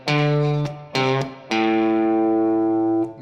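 An electric guitar plays the third and fourth parts of a beginner song: three plucked single notes, the first two short and the last ringing out long, clean and up close with no talking.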